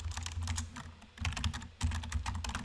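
Typing on a computer keyboard while entering a search query, with rapid, uneven bursts of key clicks close by, a brief pause near the middle, and no voices.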